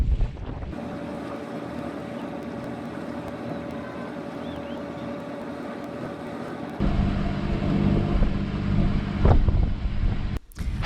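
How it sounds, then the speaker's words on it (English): A sailboat under way on a test sail with its engine running: a steady low engine drone with strong wind buffeting the microphone, growing louder and rougher partway through, with a short dropout near the end. "The plan was to raise the sails and run the engine and shake out any kinks we could find."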